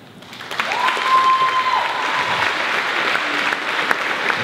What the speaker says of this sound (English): let's give them a massive cheer and welcome them out.